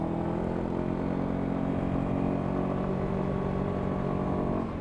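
Honda ADV150 scooter riding along, its small engine giving a steady, fairly loud buzzing drone with wind throughout and no voices.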